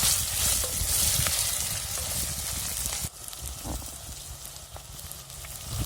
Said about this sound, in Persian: موادمون رو که حسابی تفت دادیم